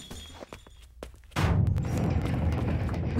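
Gunfire erupts in the Jak II game: a few scattered sharp cracks come first, then a loud blast opens a sustained, dense rattle of shots and rumbling noise.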